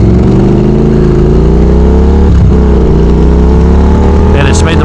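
Motorcycle with a new aftermarket exhaust, upgraded suspension and tuning, droning steadily with a loud, continuous engine tone that rises slightly, then dips briefly near the middle before building again, close to the listener.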